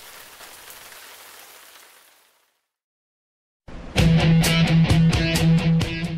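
Rain falls during a rainy season as a soft, steady hiss that fades to silence. After the pause, a much louder, closer burst of pattering rain returns with sharp repeated drops.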